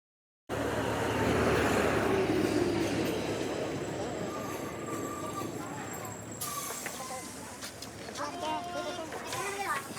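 A train pulls into a railway station with a loud rumbling roar that slowly eases, then squealing and clanking as it slows, with people talking in the background.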